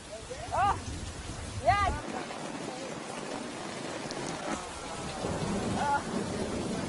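Heavy rain pours steadily with a low rumble underneath and a few brief chirping calls early on.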